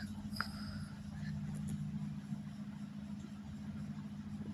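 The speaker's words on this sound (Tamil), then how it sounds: "ஜீப் இருக்கு." A jeep engine idles in the Melon Sandbox video game, a steady low rumble holding evenly throughout with faint higher clicks near the start.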